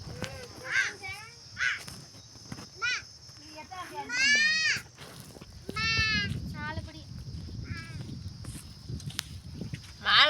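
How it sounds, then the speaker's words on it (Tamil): Goats bleat repeatedly in a rural village setting as they are herded back from grazing, with crows cawing and children's voices nearby over steady outdoor background noise. "அங்க ஒருத்தவன் ஆடு மேய்ச்சிட்டு வரான்."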